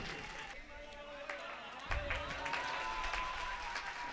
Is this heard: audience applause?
yes